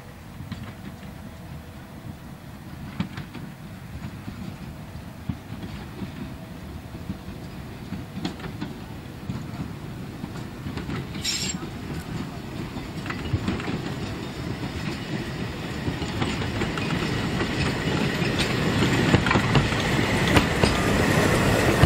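A steam train on a heritage autumn run rolls into Lindenberg station with a steady rumble, rhythmic wheel clatter and a brief squeal. The sound grows gradually louder as it approaches, and no one speaks.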